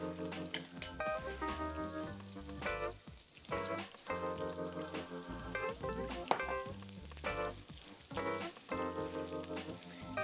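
Plenty of peppers fry in a pan alongside pancetta, a dense crackling sizzle that pops and spits continuously, with short clinks and stirring bursts breaking through now and then.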